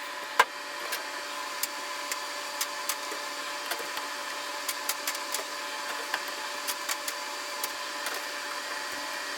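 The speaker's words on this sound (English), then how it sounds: "I'm gonna get it into the freeze dryer." A freeze dryer loaded with trays of pasta sauce runs with a steady, even mechanical hum, dotted with faint irregular clicks and ticks.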